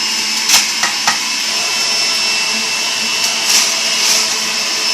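Breville juicer motor running steadily while juicing kale, a continuous whirring hum with a few brief louder bumps as leaves are pushed through; no talking.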